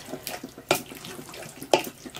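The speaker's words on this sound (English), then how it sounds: "so I'll just put a touch of water in it" Water poured into a cooking pan of stewed sausage, a faint trickling splash with two brief louder pours standing out against quiet kitchen background.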